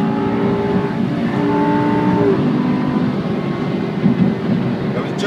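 A Lamborghini Huracán Superleggera engine hums at a steady, moderate level while the car drives along. The tone shifts slightly with speed, with road and cabin noise underneath.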